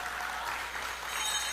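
Audience applause at a party political gathering, a dense, even patter of many hands clapping at moderate volume that continues without a break.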